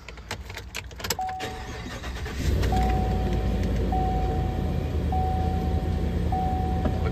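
A 2021 Chevrolet Silverado 3500HD engine cranks briefly and catches at about two and a half seconds, then settles into a loud, steady idle close by. No one speaks.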